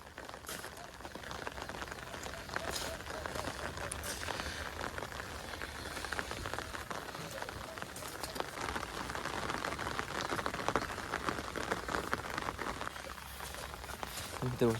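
Heavy monsoon rain falls in Banaskantha as a continuous soft, even patter on surfaces. It is fairly faint and steady, with a voice murmuring indistinctly in places.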